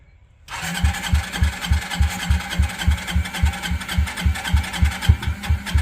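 A Carter Brothers GTR 250 dune buggy engine that had long sat unused cranks and catches after a brief silence, settling into a loud, steady, chugging putter of regular pulses.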